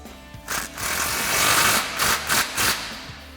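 A 15mm socket tightens the bolt on a Bilstein B8 5100 steering damper on a 2017-2023 Ford F250 Super Duty, giving a loud, close run of rough mechanical whirring and rattling in several pulsing bursts.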